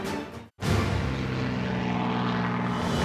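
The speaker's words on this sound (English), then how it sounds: "All the planes start getting closer." A propeller spotter plane flying over herring fishing grounds in Alaska gives a loud, steady engine drone with a brief dropout near the start, then a continuous strong hum.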